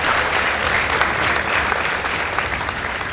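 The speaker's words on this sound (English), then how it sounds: "A round of applause for them." Audience at a school debate between Kongotik Girls High School and Langa Langa Secondary School applauds the winners, a dense, loud, even wash of clapping throughout.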